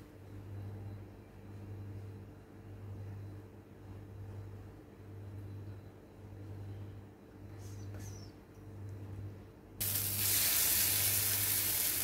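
Mixed-dal appe batter sizzles in oil in an appe pan, a low steady frying hiss with a faint rhythmic hum, then a louder bright sizzle burst as more oil goes in.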